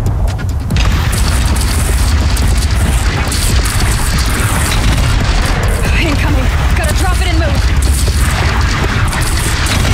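Missile blasts in Horizon Zero Dawn combat, heavy continuous booming and crashing battle noise, loud and dense, while someone talks excitedly over it.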